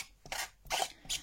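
Three quick rasping rubs of cloth against a surface, close and fairly faint, with short pauses between strokes.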